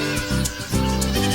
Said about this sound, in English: newborn lambs bond with their moms